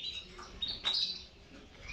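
Canary, a young pet bird of the Vietnamese hoang yen breed, chirping in short bright tweets, with one louder burst in the middle, faint and alone.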